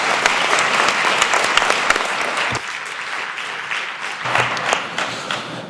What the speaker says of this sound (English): ce qui mérite des applaudissements